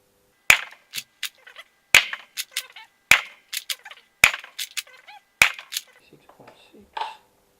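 A Deadpool Kronos airsoft pistol with a heavier spring is fired five times over a chronometer, each sharp, loud snap followed by quick rattles and clicks, with roughly a second between shots and brief faint sounds after the last.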